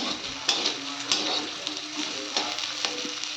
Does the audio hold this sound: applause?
no